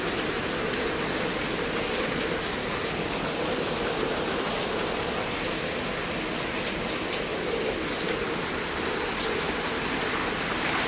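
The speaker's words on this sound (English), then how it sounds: "It could be the rain hitting something that I just can't see." Heavy rain pours down during a thunderstorm, a dense, continuous hiss of drops striking surfaces, loud and steady throughout with no thunder or voices standing out.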